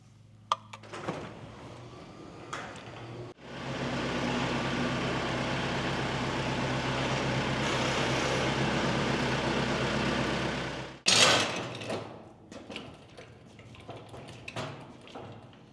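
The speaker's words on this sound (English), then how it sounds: "Let's get the Kubota tractor out and get the fertilizer spreader on it" A Kubota tractor engine starts and runs at a steady, loud low rumble for several seconds before shutting off, with clanks and knocks of equipment before and after.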